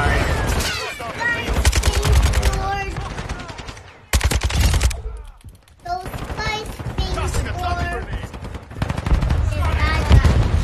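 Rapid automatic gunfire in a shooter video game, long loud bursts of machine-gun fire broken by short pauses, heard alongside the players' chatter.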